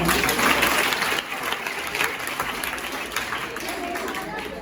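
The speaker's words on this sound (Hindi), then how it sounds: "सब लोगों के लिए तालियां" A crowd at a police and defence training academy in India claps steadily and densely for several seconds after an exercise session, a continuous wash of applause with no clear pauses.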